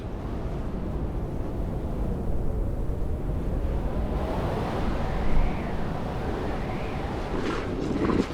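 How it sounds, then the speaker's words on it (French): A strong 60 km/h wind blows across a steep snowy slope of Mont Blanc at about 4400 metres, making a continuous loud rushing roar that swells briefly partway through, with a faint voice underneath. "Le vent souffle à 60 km/h."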